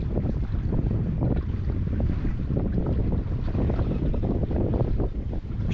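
A sailboat under sail with a single person aboard, wind rushing steadily over the microphone amid broad water and hull noise, continuous and loud with no talking.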